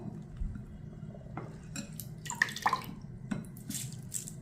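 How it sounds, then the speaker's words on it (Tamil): Soaked Mappillai Samba rice drains in a sieve, with faint trickling and scattered drips of water plus a few light clinks of the strainer, quiet and close, without speech. "இப்போ இந்த அரிசியை வந்து நம்ம ஜல்லடையில் போட்டுக்குருவோம்"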